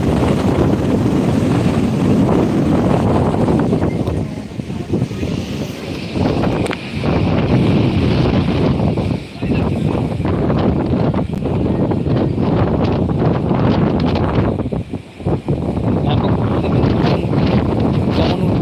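Strong, steady wind roars across the open shoreline at Old Digha sea beach under stormy conditions, with broadband gusty rumble and buffeting against the microphone throughout.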